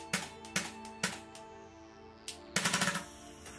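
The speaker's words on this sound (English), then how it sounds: "in full auto mode we can fire a dozen or so shots in a row before the magazine freezes and the replica stops firing" An EMG Noveske N4 gas blowback airsoft rifle firing, a few spaced single pops followed by a rapid full-auto burst of about five snappy shots, each with a metallic clack of the cycling bolt over quiet room background.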